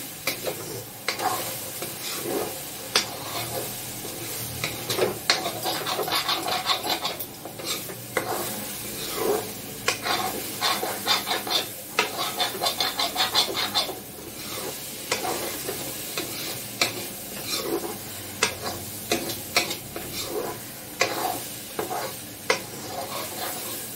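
An egg is stir-fried together with the other ingredients in a pan: steady sizzling with repeated scraping and clacking of a spatula against the metal, close and fairly loud, with no talking.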